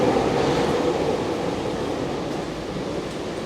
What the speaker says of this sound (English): So this is our train, we'll get on board.